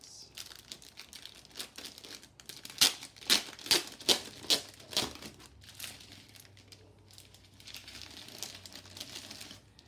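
Sheets of craft paper, some bright blue and green, being handled and shuffled, giving a run of crisp crinkling and rustling bursts that peak in the middle, with softer paper movement afterward and no talking.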